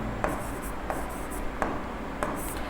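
Chalk or marker writing on a board during a Class 10 quadratic equations math lesson: four evenly spaced scratchy strokes, each with a brief squeak, over a steady loud background hum.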